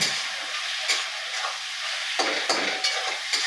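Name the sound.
flattened rice (chira) being added and mixed in a pan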